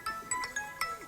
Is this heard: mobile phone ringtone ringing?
yes